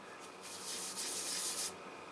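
A single soft, steady rubbing pass of about a second as wet shellac is worked into the wood grain of a 1931 Martin C-1 guitar during repair, close and moderately loud against quiet room tone.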